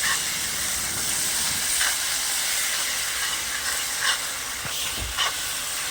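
Finely chopped tomatoes, three of them, sautéing in a pan for Madurai-style chicken salna: a steady close hiss and sizzle with a few light scrapes of stirring, no talking.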